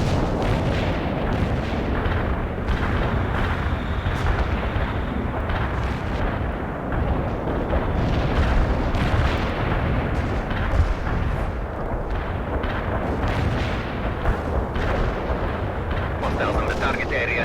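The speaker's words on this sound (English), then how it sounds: "Do I get an artillery strike now? Firing for effect." Heavy artillery strike explosions in a World War combat video game, a continuous barrage of deep booms and rumbling blasts over a sustained stretch, with voices talking over the din.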